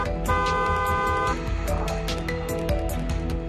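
A car horn sounds in one sustained loud honk, followed by shorter toots amid traffic noise.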